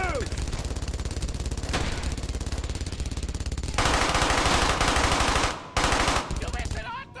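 Sustained bursts of MG42 machine gun fire in the WWII shooter Brothers in Arms: Hell's Highway, a loud, rapid continuous rattle with a brief pause before the firing resumes, with a voice faintly underneath.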